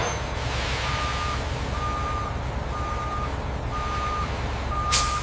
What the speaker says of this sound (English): the cement is loaded into tanker trucks for distribution